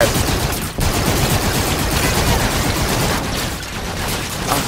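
Sustained rapid automatic gunfire from Call of Duty: Infinite Warfare, loud and close, firing almost continuously with only a brief gap near the start.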